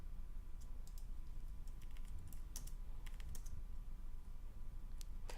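Rapid clicking keystrokes on a computer keyboard, a quiet, dense run of irregular taps close by, with no voices.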